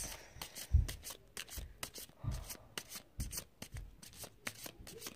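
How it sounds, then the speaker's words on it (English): A deck of tarot cards is shuffled by hand, with quick, papery riffles and rubs repeating in an uneven rhythm. The sound is close but soft, with no voices. "I already shuffled them."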